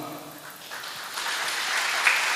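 Audience applause in a hall during a Marathi talk, broad and steady clapping that swells slightly toward the end, with no voices over it.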